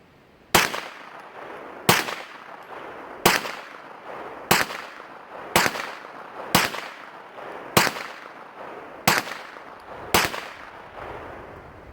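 A gun fires nine hand-reloaded rounds at an even, unhurried pace, each a sharp, loud crack with a short decaying echo, spaced roughly a second and a quarter apart, with no talking.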